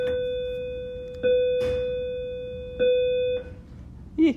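A clear ringing bell tone sustains and slowly fades, struck again partway through, with a faint voice-like sound near the end.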